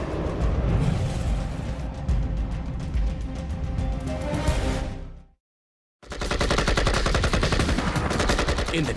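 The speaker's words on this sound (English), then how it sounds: "rapid-fire weapons are the fastest, deadliest, baddest firearms on the block" Rapid-fire automatic weapons blast out continuous, loud bursts of machine-gun fire that end abruptly in a brief silence before another dense, rattling volley begins.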